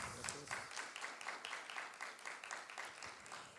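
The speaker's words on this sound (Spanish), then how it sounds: "pedimos un aplauso para Claudio." An audience applauding a speaker at a film-criticism master class, steady moderate clapping from many hands in a room, continuous for several seconds, no voices.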